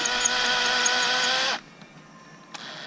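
A hair tapering machine whirs with a steady high-pitched electric hum, then cuts off abruptly, leaving near-silence and a brief click.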